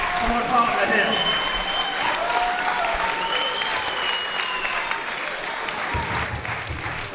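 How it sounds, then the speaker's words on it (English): A crowd at a wrestling event claps and cheers in a loud, sustained wave of applause that carries the whole way through, with voices mixed into the noise. "have a round of applause for my partner here"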